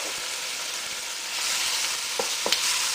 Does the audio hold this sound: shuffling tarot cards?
no